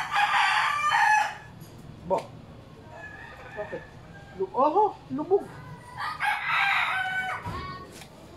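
Chickens call outdoors during termite hunting. A rooster crows with loud, close bursts, and there are clucks and short squawking calls in between. Someone talks briefly among them.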